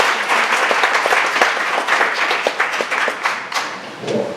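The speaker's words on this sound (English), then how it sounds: "could we get a quick round of applause for Microsoft Reactor?" An indoor tech-conference audience breaks into sustained applause, dense clapping filling the room loudly and evenly for several seconds before thinning slightly at the end.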